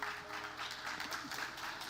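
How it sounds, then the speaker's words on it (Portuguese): A few scattered people in a church congregation clap faintly and thinly for a moment, quiet sparse applause in a reverberant hall. "Obrigado os 3 gatos pingados que estão aplaudindo"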